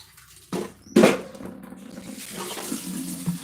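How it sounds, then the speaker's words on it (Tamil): Hot water runs from a water pipe in two sharp bursts followed by a steady, close splashing flow, with no voices. "இதுவே தண்ணி பைப்லேயும் சூடாக தான் வருது"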